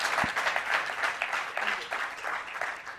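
An audience claps enthusiastically, a dense patter of many hands that holds steady for a few seconds.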